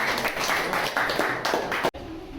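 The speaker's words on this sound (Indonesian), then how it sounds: "Beri tepuk tangan," A class of schoolchildren claps together, a dense, even burst of applause that cuts off abruptly.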